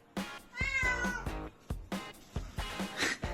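A friendly cat meows several times at close range, with drawn-out, wavering calls and short chirps of varied pitch, alone without speech.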